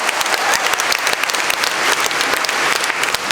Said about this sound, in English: Round of applause for the scarf